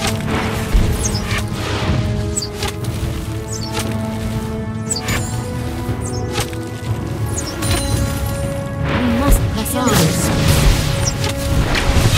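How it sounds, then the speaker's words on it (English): A turret being destroyed in League of Legends, loud crashing and booming impacts layered over dense game effects and background music, with an in-game announcer voice present. "Destroyed a turret."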